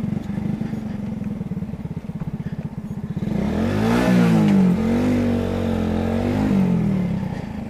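A motorcycle rolls slowly at first with a steady low engine pulse, then accelerates with a louder rising drone and revs that climb and ease off as it pulls into a car dealership yard; no one speaks.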